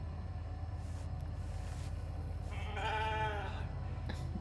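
Molly the sheep from The Alters lets out a short bleat when petted, a faint wavering cry rising clearly above a low steady background hum near the end.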